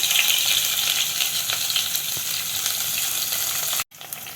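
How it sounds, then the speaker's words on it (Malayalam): Crushed small onions (shallots) fry in hot oil with curry leaves for a snake gourd stir-fry, making a loud, continuous close sizzle that breaks off briefly near the end. "ചെറിയ ഉള്ളി ഒന്ന് ചെറുതായി മൂക്കട്ടെ, അതുവരെ നമുക്ക് വെയിറ്റ് ചെയ്യാം."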